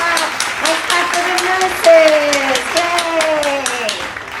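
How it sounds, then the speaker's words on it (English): A group of people clap along at a children's lesson, steady ragged applause running throughout with an adult voice speaking over it. "Let's clap for the doctors."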